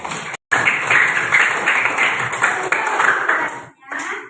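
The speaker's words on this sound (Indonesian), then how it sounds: "Tepuk tangan untuk kita semuanya." Sustained applause from a group in a primary school class setting: dense, rapid clapping that runs for about four seconds after a brief gap at the start, fairly loud and even throughout.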